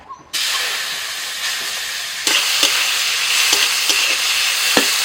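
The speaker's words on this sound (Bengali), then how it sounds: "কড়াইতে সামান্য পরিমাণে সরষের তেল দিয়ে চিংড়ি মাছগুলো দিয়ে দিচ্ছি" Loud, steady sizzling of prawns frying in mustard oil, starting abruptly and swelling as more hit the pan, with a few clinks of stirring.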